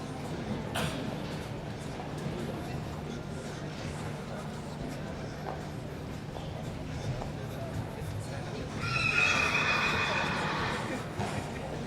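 A young Danish Warmblood horse at a riding test whinnies near the end, a bright shrill neigh rising over constant murmuring crowd and arena noise, with earlier faint thuds in the background.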